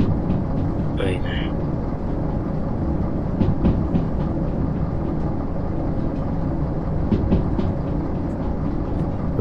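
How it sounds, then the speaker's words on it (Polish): A locomotive runs in the Derail Valley train simulator game in realistic mode, giving a steady, loud rumble and rolling rail noise throughout with faint clicks above it. "O, jedzie, lokomotywa, widać, jedzie."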